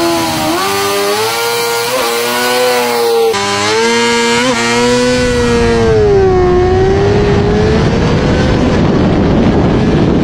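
A KOVE 450RR sport motorcycle launches hard in a 0-100 km/h acceleration test, its engine screaming at high revs and rising through gears with brief dips at shifts, then fading into a rushing wind roar as it pulls away.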